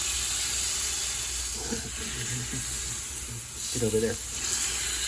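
A smash burger patty sizzles on a hot griddle, a steady close hiss running through the whole stretch while someone talks over it.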